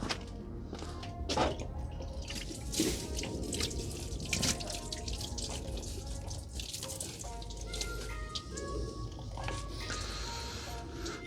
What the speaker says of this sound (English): let me grab a little bit of water and kind of wash that off. Just pour some water down over here.